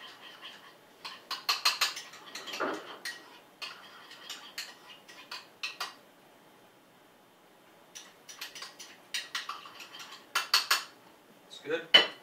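Zucchini chips being tossed with seasoning in a bowl, giving close, irregular clinks and scraping clatters in short bursts with quiet gaps, no talking.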